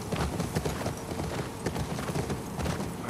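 Horse hooves clip-clop steadily on the ground in The Last of Us Part II, a quiet rhythmic trot with faint ambient noise and no talk.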